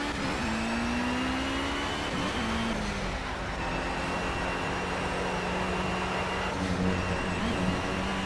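Race car engine in Project CARS at Monza during endurance qualifying: a steady, loud mid-pitched drone holds throughout, with gear shifts and pitch dips as revs rise and fall, no talk over it.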